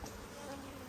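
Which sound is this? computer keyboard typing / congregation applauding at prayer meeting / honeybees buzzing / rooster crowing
honeybees buzzing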